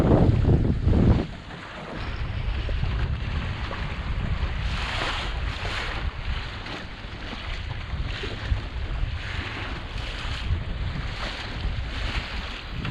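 A sailboat out on Lake Erie on a chilly, gray day, with strong breeze buffeting the microphone in a steady roar and gusts rising and falling over rushing water, and no voices.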